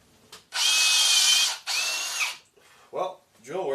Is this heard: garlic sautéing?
no